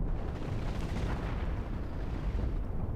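Chain guns in the space-ship building game Cosmoteer fire as a dense, continuous rumbling barrage that holds loud and steady throughout.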